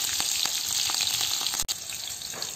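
Garlic and chillies frying in mustard seed oil on a wood-fired village stove give a steady, close sizzle with faint crackles and stirring scrapes, with no voices.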